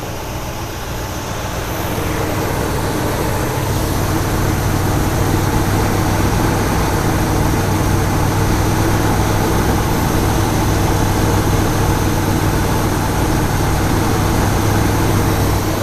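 A 1972 Buick GS Stage 1 engine idling with rough idle quality, a loud, continuous low rumble and whooshing drone that swells slightly after the first couple of seconds, then holds steady with no talking.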